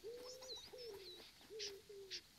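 A pigeon in the wildlife video game Alba: A Wildlife Adventure gives a few soft, drawn-out coos in a short sequence, fairly quiet, with faint chirps above them.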